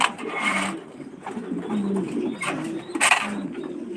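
Pigeons coo in low, rolling calls at a pigeon farm in Senbag, Noakhali, among fancy breeds like King and Lahore birds, several overlapping nearby with a brief sharper flutter or call partway through.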